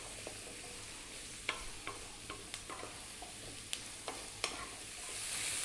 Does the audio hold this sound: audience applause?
no